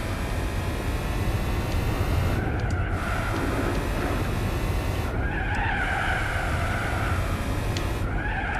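Car tires squeal steadily while drifting through corners in Gran Turismo 4, with a continuous engine drone under repeated skid bursts that swell and fade several times.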